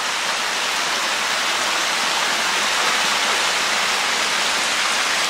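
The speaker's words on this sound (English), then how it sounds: "A whole nother waterfall." Steady, full roar of a waterfall near a swimming hole, broadband rushing water continuous and fairly loud throughout, with no voices over it.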